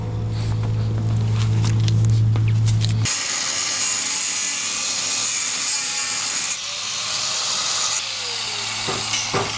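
An angle grinder with a cutting disc slices through the steel rear wheel arch of a Mk2 Volkswagen Golf, a loud sustained hissing shriek that starts abruptly and runs on with small shifts in pitch, alone with no talk.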